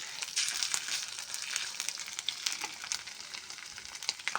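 Ginger paste hitting browned onions in hot oil, a close, busy crackling sizzle with sharp spattering pops throughout, no speech.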